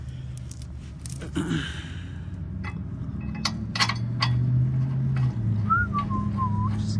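A metal bolt with a washer and nut clinks and taps during installation of a bolt-on track bar on a lifted Toyota or Lexus, with several sharp, scattered metallic ticks close by and a short whistle near the end.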